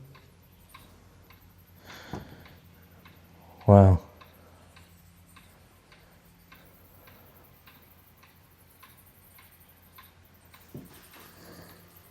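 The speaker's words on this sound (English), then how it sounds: "There must be a clock around the corner because I hear ticking." A clock ticks in the enlisted men's barracks of a historic fort on the Santa Fe Trail, soft regular ticks at a steady pace under room tone, broken by a loud brief exclamation and a couple of knocks.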